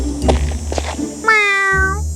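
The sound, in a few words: cat meowing softly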